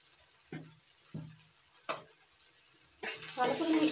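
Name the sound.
stirring salt and turmeric into frying betoshak curry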